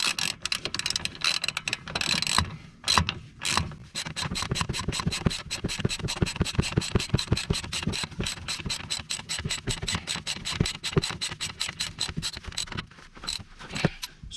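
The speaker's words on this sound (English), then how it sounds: "drop link, which comes out through the bottom of a strut and suspension leg, is now being done up with 24mm bolt nut" A ratchet tightening a 24mm nut on the top of the drop link of a Peugeot 407 SW front suspension strut, a long run of rapid, evenly spaced clicks with short pauses, close and loud.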